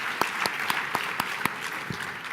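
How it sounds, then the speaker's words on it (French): An audience at a 2014 tourism meeting applauds in a short burst of sharp, evenly spaced claps, fairly close and clear, with no voices over them. "on peut applaudir cette belle initiative"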